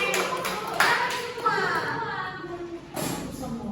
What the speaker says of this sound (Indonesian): Iya, kita tepuk tangan dulu guys.